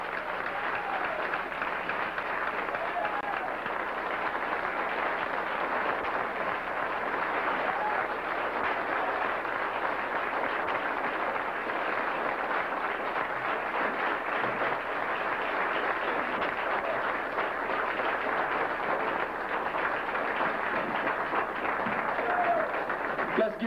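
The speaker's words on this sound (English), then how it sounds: "Let's give him a round of applause, Minister Khalid Abdul Muhammad." An audience at a speaking event applauds for a guest minister, with a dense, continuous roar of clapping that holds steady and loud for over twenty seconds with no break.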